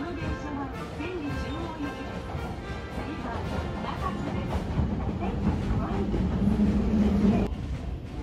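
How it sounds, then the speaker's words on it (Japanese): A Kita-Osaka Kyuko line train bound for Tennoji rumbles past steadily at a station, with clattering and screeching wheel noise, loud and continuous, while voices talk in the background. "向こうは天王寺、そして中門寺方面の電車です。"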